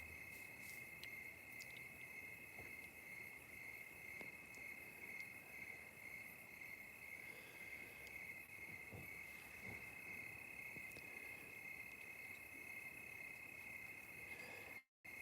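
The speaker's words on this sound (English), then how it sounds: "we got the crickets happening right now" Crickets chirp steadily outdoors at night, a constant high trill that carries evenly through the whole stretch, faint and unbroken with no voices.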